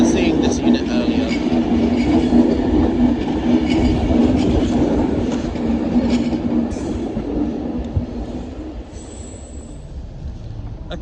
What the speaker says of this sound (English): the train now departing is the 1443 Avanti West Coast service to Edinburgh via Birmingham New Street